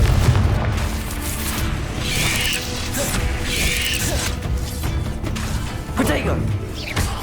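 Confringo explosive spell cast in the Hogwarts Legacy video game, set amid game combat effects with mechanical clanks, booms and crashes, while a voice talks over much of the clip.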